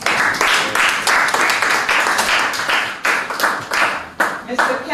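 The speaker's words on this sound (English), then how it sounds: "could you please give them a round of applause?" Audience applause at an intelligent monitoring system handover ceremony, loud, close clapping with sharp rhythmic bursts that surge and fade over five seconds, a voice briefly audible beneath it.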